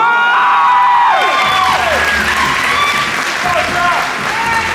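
An audience at a bodybuilding show applauds loudly, with whoops and shouted cheers mixed into the clapping, and a voice calls out over the noise before it settles slightly.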